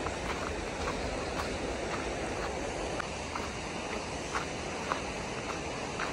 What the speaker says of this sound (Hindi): चश्मे का पानी है, चश्मे का नाला है ये।